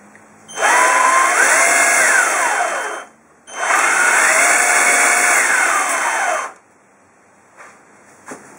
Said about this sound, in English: is powered by an electric drill motor